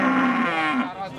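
A loud, close moo from a Limousin or Simmental beef cow, a single long low bellow that rises and falls before trailing off.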